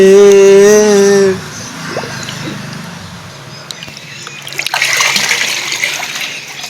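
Water sloshing and splashing as a phone is dipped in for an underwater test, gurgling and trickling bursts at close range after a short loud tonal sound at the start.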